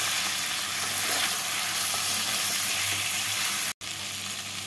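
Spiced chicken sizzles steadily in a pan after mace and green cardamom powder go in. A constant close frying hiss with faint stirring scrapes runs throughout, broken by one brief dropout near the end.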